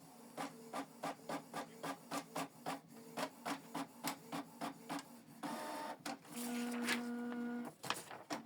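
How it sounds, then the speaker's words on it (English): A Canon PIXMA TR4755i inkjet printer prints a test page: a rapid regular series of mechanical print-head passes, then a steady feed whir and a final clunk, close and alone. "So it's printing a test page."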